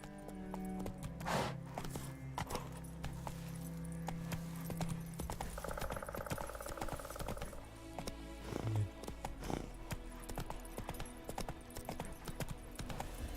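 Horse hooves clip-clop steadily through a scene in the video game The Witcher 3, with a brief whinny, all at a moderate level over game music and ambience.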